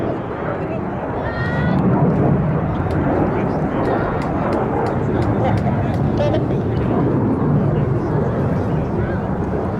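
RAF Red Arrows display jets fly at an air festival, giving a loud, continuous roaring rumble throughout, with an announcer's commentary over it.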